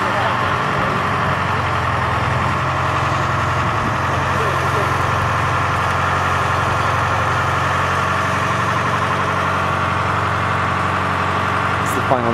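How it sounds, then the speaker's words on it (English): Crane engine idling steadily while hoisting a 10 kW vertical-axis wind turbine onto a barn roof; a continuous, fairly loud low diesel rumble runs throughout with no breaks. "crane is now lifting the actual turbine"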